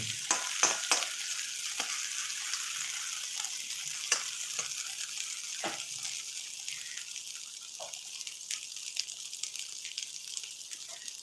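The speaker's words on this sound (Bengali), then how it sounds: "ভালো করেই ভেজে নেব বেগুনটাকে" Eggplant slices fry in hot oil with kalonji seeds, giving a steady crackling sizzle broken by short sharp pops and scrapes, close and moderately loud, with no voices.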